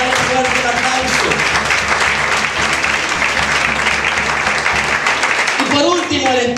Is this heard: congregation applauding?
yes